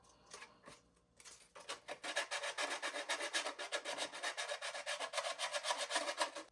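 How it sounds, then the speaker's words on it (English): Sandpaper rubs over a plastic Stormtrooper costume bicep piece in fast, regular close strokes, a rhythmic rasping scrape after a few quieter opening scratches. "now we're going to finish it with the sandpaper"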